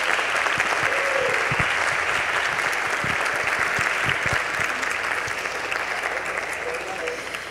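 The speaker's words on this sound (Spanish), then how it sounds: "Pido un fuerte aplauso para todos los presentes." Hearty audience applause at a university conference inauguration, a dense steady wash of clapping from a large crowd with a few louder nearby claps, tapering gradually toward the end.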